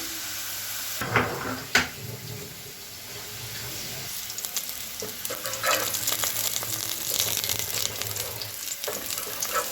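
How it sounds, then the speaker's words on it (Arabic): Onion sautés in ghee in a heated pot, a steady close sizzle with stirring scrapes and a few clanks, growing slightly busier as it cooks, with no talking. "هحط معلقه سمنه، وهحط البصله بتاعتي تتشوح"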